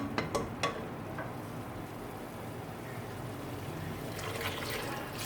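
Water poured into a pot of red kidney bean curry (lobia) on the stove, a soft steady splashing and trickling hiss after a few brief clinks at the start, with no talking.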